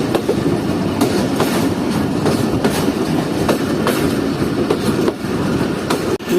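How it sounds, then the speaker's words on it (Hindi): A passenger train climbs a gradient on railway track, its carriages rumbling loudly with a steady rhythmic clickety-clack of wheels over rail joints heard from on board. "तो देख सकते हैं आप, ट्रेन इस तरह अब ग्रेडियंट पर चढ़ रही है।"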